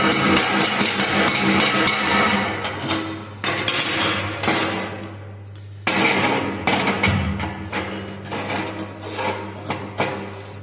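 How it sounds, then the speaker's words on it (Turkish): A hammer strikes repeatedly to chip slag off a fresh corner weld on metal, sharp metallic clinks and knocks coming in irregular close bursts with short pauses, no talking. "Bakalım cürüfü kıralım."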